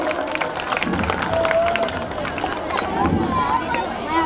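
An audience at a school mushaira claps to welcome a poet, giving a steady patter of applause and crowd murmur, with a voice speaking over it.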